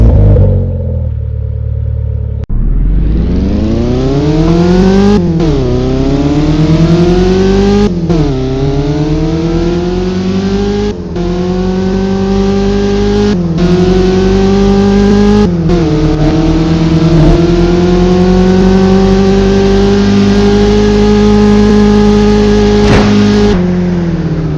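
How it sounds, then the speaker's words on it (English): A Toyota Celica in the Roblox game Driving Empire revs hard, its engine pitch climbing repeatedly through a run of gear shifts, loud, close and steady with no talk over it. "So we're gonna go ahead and do a sound test and tell me how you think it sounds."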